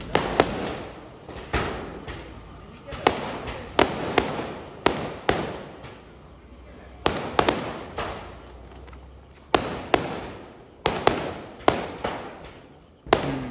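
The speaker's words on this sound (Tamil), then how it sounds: "நம்ம பக்கத்து வீட்லேயும் ஸ்கை ஷாட்லாம் பயங்கரமாக கொளுத்துறாங்க" Neighbours setting off sky shot fireworks during Christmas celebrations in Kanniyakumari: a long run of sharp, loud bangs and cracks, some in quick clusters and others spaced apart, each with a short echoing tail, and no voices.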